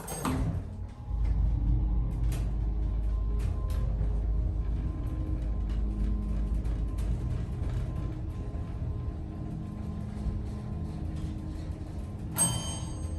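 The motor of a Westinghouse hydraulic elevator in Galveston's Hunter Building runs with a steady low drone and faint clicking mechanisms, starting with a thump and ending with a brief sharp clatter.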